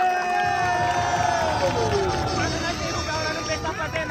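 A loud crowd cheering and shouting in a dense babble at a Brazilian rap battle semifinal, with whistles and voices rising over the roar throughout.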